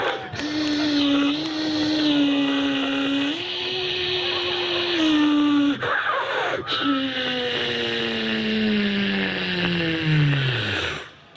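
A Korean comedian's voice imitates a vacuum cleaner with a steady, droning hum that shifts pitch, rises and falls, then winds down at the end.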